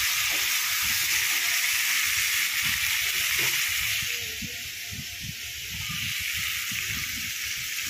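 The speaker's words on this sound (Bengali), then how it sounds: "ডিম আলু দেওয়ার পর একটু ডিম আলুর সঙ্গে একটু কষিয়ে নিচ্ছি ভালো করে" Eggs and potatoes frying with spice paste in a pan, a steady broad sizzle running throughout with soft stirring scrapes beneath, close and moderately loud, dipping briefly midway.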